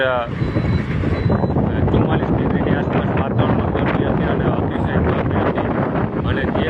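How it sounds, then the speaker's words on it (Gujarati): Strong, dusty wind after intense afternoon heat in Halvad buffets the microphone in a continuous, rumbling roar, with a brief high tone at the start. "ભારે ઉકળાટ બાદ અત્યારે જે પવન છે"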